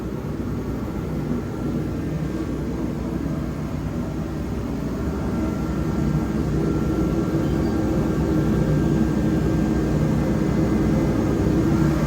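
Garage workshop heater running with a steady broadband roar and low rumble, constant and fairly loud, filling the room with no talk over it.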